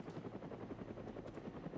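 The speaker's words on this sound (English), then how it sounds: "There's a helicopter." A helicopter flies overhead in the video game DayZ, its rotor chop a fast, steady, rhythmic beating that stays at a constant, fairly quiet distance throughout, with no voices.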